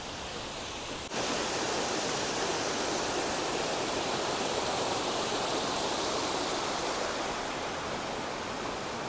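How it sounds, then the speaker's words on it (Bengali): A waterfall at Rock Garden in Darjeeling pours in a constant, dense hiss of falling water that jumps louder after the first second and then holds steady on its own. "এই যে ঝর্ণাটা নিচে গিয়ে পড়ছে, এটা পুরো ওই ওপর দিয়ে আসছে।"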